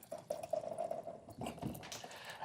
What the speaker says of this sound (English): So now we're going to add the hot water.